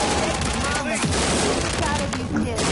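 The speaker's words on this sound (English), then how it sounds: "No one can shoot a pistol that fast, you fucking cheater." Quick-fire pistol shots from a video game rattle alongside other battle noise, dense and busy throughout, with someone talking over the shooting.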